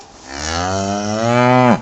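A cow gives a single loud, close moo that holds steady for almost two seconds, rising slightly before cutting off abruptly.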